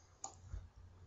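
A single faint computer mouse click, a short sharp tick over quiet background hiss.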